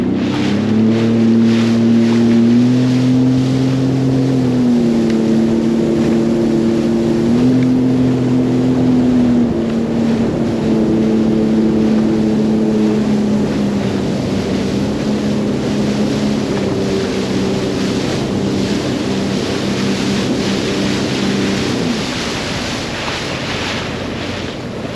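Boat engine on the Frontenac, an old vessel with a smokestack, running at full throttle as it pushes out onto a lake; a steady, loud drone with a shifting harmonic pitch, mixed with wind and water noise, no talking.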